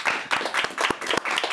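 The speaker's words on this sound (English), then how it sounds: "Audience, let's give her a round of applause for that." A studio audience claps in short, uneven bursts, a brief smattering of hand claps lasting under two seconds.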